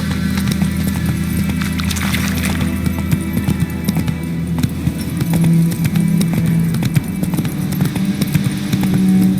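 Roach the horse gallops in The Witcher 3, with rapid, loud, rhythmic hoofbeats pounding steadily over a low hum throughout.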